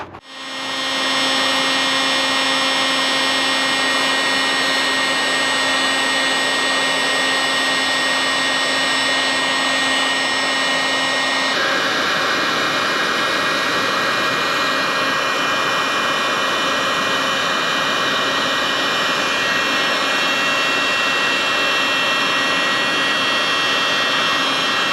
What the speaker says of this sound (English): And then I'll go through with a heat gun, and it kind of makes it look better.